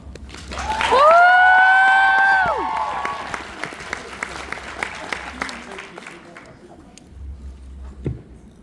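Audience applause and cheering welcoming Kevin Olusola at a 4H IGNITE conference, a loud wash of clapping that peaks early and then fades over several seconds, with a voice over a microphone at the start.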